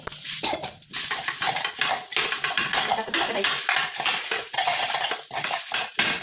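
A glass pounds and grinds peanuts, salt and coriander into a coarse chutney in a bowl, making a busy run of knocking, scraping and clinking close by.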